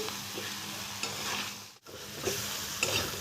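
Dried raw mango pieces stirred with spices in a pan while making sweet-sour-spicy green mango pickle, with a steady frying sizzle and repeated scraping strokes close by, no talking.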